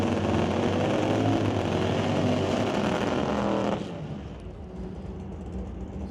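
Drag race cars launching down the strip during the final round of time trials, loud roaring engines at full throttle that drop to a lower, more distant rumble partway through.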